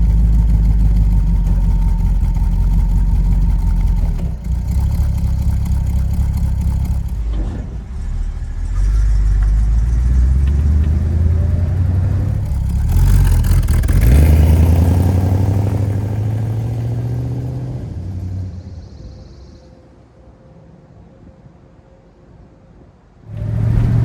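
Engine of a 1970 Plymouth Cuda revived after sitting 30 years, rumbling steadily from inside the car while driving, swelling as it accelerates midway, then easing to a quieter idle-like drone before briefly rising again.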